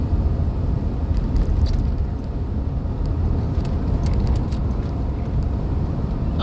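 A car being driven, heard from inside as a steady, dense low road and engine rumble that holds even throughout, with faint higher ticks and no talk.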